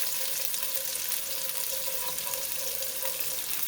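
Steady, bright sizzling of chopped shallots frying in a pan, a continuous crackling hiss with no talking.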